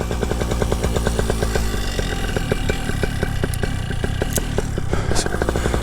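A paramotor engine during a launch from a field, a loud, rapid buzzing two-stroke drone with a steady pulsing rhythm close by, no speech.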